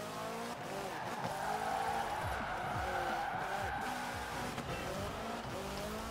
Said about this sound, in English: I'm just flooring it.